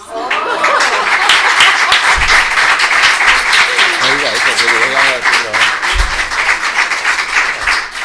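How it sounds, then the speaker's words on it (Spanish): Loud, sustained applause from a library audience at an author event, dense clapping throughout with voices mixed in. "os voy a pedir que le demos un gran aplauso porque hoy es su cumpleaños"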